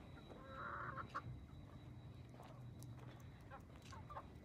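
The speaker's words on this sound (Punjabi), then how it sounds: "ਮੁਰਗੀਆਂ, ਕੁੱਕੜ, ਕੁੱਕੜੀਆਂ।" Hens and roosters cluck and call in a poultry factory shed, with a few short bursts near the start and middle over a steady low mechanical hum.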